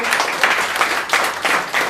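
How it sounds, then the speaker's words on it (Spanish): A crowd at an anniversary gathering of Grupo Luz y Vida in Oaxaca applauds for the godfather, Paco Lennon, in a brief, steady burst of clapping that stays close and loud throughout. "un aplauso acá para el padrino"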